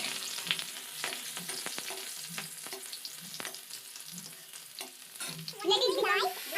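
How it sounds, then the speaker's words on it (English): A ladle stirs bhujia in a pan, scraping in steady repeated strokes over a soft sizzle, with a brighter burst of frying crackle near the end; no one talks. "I am stirring the bhujia by the help of ladle."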